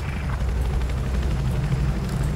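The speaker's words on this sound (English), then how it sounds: "I'll get that attack helicopters out." Deep, steady rotor thrum of an attack helicopter in the video game Battlefield 4, loud and close, a continuous low throb with no talk.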